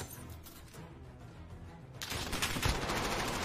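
Gunfire in a Call of Duty League Domination match, a burst of rapid shots erupting midway and growing louder, following a stretch of quieter game ambience.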